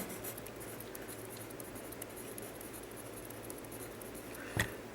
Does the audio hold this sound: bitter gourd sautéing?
no